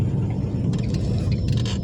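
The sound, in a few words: car with 4G15 stroker engine driving on village road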